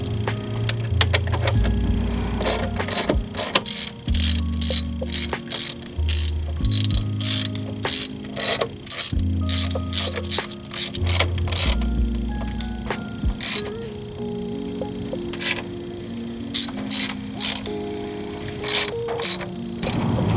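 A hand ratchet tightens bolts on a car valve cover in rapid, close, crisp clicking bursts that stop and start again and again, with short pauses between strokes and no voices.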